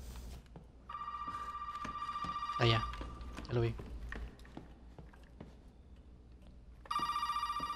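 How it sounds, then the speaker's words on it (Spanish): A telephone rings in the horror game Resident Evil 7, two bright electronic ring bursts separated by footsteps and a short spoken line, the second ring starting near the end. "Teléfono."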